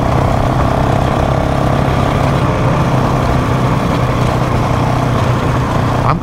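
A Honda CRF450RL dual-sport dirt bike engine drones continuously while being ridden, loud and close, with steady wind rush mixed in and no voices.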